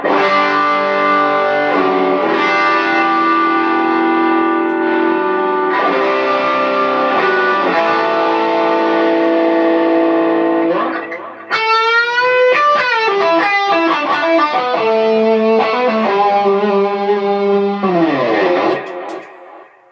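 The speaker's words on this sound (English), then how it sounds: "I've got the expression pedal set to turn up the gain" Electric guitar through a Line 6 M13 overdrive, gain raised by expression pedal, held distorted chords ringing out in loud sustained blocks, then bending, shifting notes near the end before fading.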